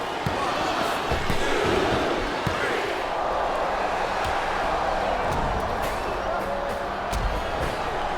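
Steady roar of a packed arena crowd at a wrestling match in the SmackDown vs. Raw 2007 video game, a dense continuous wash of cheering with occasional thuds and impacts, loud and unbroken throughout.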